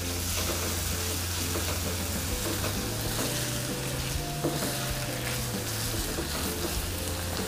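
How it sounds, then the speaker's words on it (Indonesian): Shredded chicken with spices sizzles and fries steadily in a pan for an Indonesian fried lemper snack, a continuous close crackle with no talking. "Kita tumis sampai bumbunya meresap dan jangan lupa dites rasanya ya."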